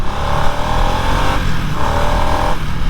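A 2024 Harley-Davidson Nightster Special motorcycle accelerating hard, its loud engine note climbing in two close surges, with a brief dip between them as the rider shifts gears.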